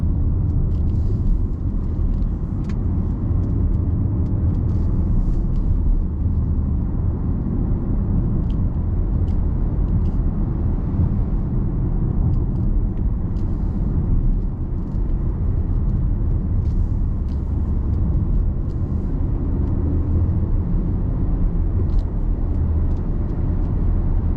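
A 2013 Audi SQ5 3.0 BiTDI quattro with Tiptronic gearbox cruises a smooth road, heard from inside as a low, even cabin rumble with faint road hum and no talking.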